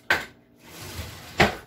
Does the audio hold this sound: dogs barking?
no